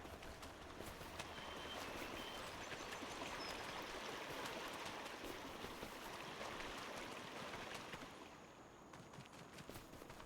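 A creek runs steadily in a Farming Simulator 25 forest map, its broad water rush continuous and fairly distant, easing slightly near the end.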